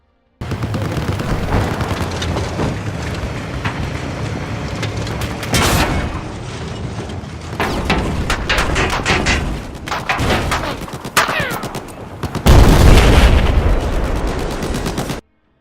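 C4 explosions in a Battlefield video game, with heavy booms and blasts mixed with bursts of gunfire, loud and close, the biggest detonations landing near the middle and toward the end.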